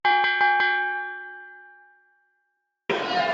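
A boxing bell ends a round at a professional fight with several quick, sharp clangs that ring out and fade over about two seconds, followed by a burst of arena crowd noise.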